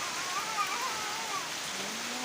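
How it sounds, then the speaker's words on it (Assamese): Rain falls outside near a pond during a home daily routine in Assam, a soft continuous hiss of drops at moderate distance, steady throughout with no talking. "এয়া বৰষুণ দি আছে"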